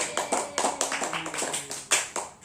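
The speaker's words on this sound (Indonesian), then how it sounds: "Tepuk tangan dulu." A primary school class claps in a quick, rhythmic series of about a dozen sharp, close hand claps in a classroom, with faint voices between the beats.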